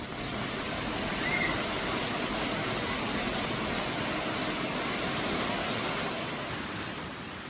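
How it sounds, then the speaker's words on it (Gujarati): Heavy rain pours steadily over open ground in Prantij and Talod, Gujarat, a dense, even hiss that holds at constant loudness throughout with no voices or other distinct sounds. "પ્રાંતિજ, તાલોદ સહિતના વિસ્તારોમાં ભારે વરસાદ છે"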